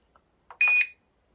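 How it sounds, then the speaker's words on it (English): Short electronic arming beep from a Volantex Focke Wulf Fw 190 4-channel RC plane, a single bright tone lasting about a quarter second after a faint click, alone in quiet. "If you move the throttle, the motor doesn't work. You have to do it all the way up, the throttle back down, you'll hear a beep"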